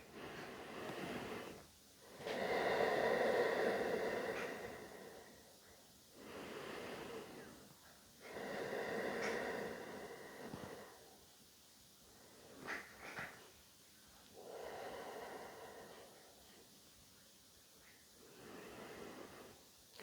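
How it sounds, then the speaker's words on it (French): Slow, deep yoga breathing during a mat-free stretching routine: four long, soft, airy breaths rise and fall in a steady cycle with quiet pauses between them, close but faint. "on va dire qu'on va faire 4 respirations ensemble"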